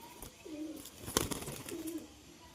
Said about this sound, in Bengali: এ হচ্ছে একটি লালমুখী মাদি কবুতর